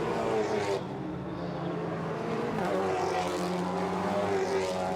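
TCR touring race cars weaving across the track at the 2016 Singapore round, a steady loud engine drone with shifting pitch as several cars pass close, continuous throughout with no clear breaks.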